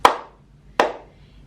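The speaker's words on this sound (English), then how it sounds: "clap your hands" Two sharp, separate hand claps, close and alone, spaced about three quarters of a second apart, each with a short decaying ring.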